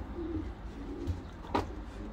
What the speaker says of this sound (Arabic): جميل جدا من حمام الليو هيرمانز المباشر